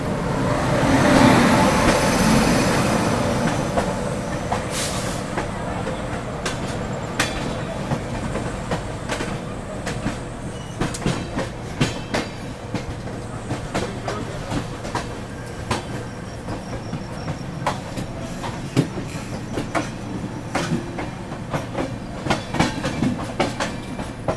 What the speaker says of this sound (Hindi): सामने कोई तो ट्रेन आती हुई।